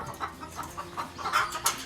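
Guinea fowl in a farm flock give a series of repeated, rhythmic clucking calls, close by and moderately loud, with no voices.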